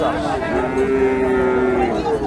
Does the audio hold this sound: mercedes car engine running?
no